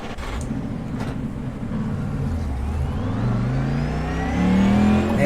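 A car accelerating on a test drive with zero rear toe, its engine note climbing steadily through the gears, loud and close, with no voices.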